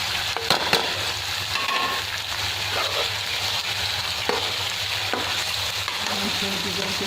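Ginger-garlic paste and chicken fry in a pan with a steady, close sizzle, broken by scraping stir strokes and occasional clinks of a utensil, with no talking.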